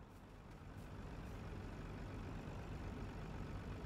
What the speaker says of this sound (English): That one truck's having a little problems turning.